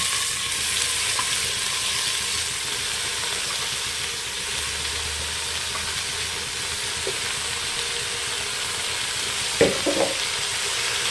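Chopped radish greens fry in oil in a home kitchen pan, a steady soft sizzle running throughout with a few clinks of stirring near the end.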